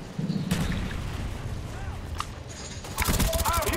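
A grenade blast and gunfire from Call of Duty Black Ops 2 come as scattered shots and bursts over a low rumble. A dense volley of rapid fire follows at the end, with voices talking underneath.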